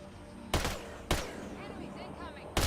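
Gunfire aimed at incoming enemies in the video game Mass Effect Andromeda: three sharp, loud shots spaced irregularly over a few seconds, with game sounds and faint voices between them.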